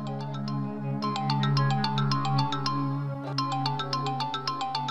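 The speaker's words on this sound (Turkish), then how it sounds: "Oğlum telefonun çalıyor." A mobile phone ringtone plays steadily for several seconds as a repeating bright melodic tune over a low sustained hum, with no one speaking.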